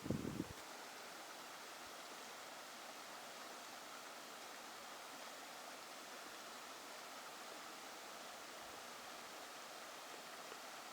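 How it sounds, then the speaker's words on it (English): River rapids at Hillsborough River State Park, water rushing over rocks among cypress knees, make a faint, steady hiss heard from a distance, with a brief bump at the start. "I love the sound of the water rushing over the rocks."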